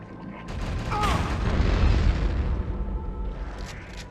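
A weapon fires in Turok 2, a heavy booming blast that swells and rumbles for a few seconds before tailing off, loud and close, with a brief electronic whine near the start.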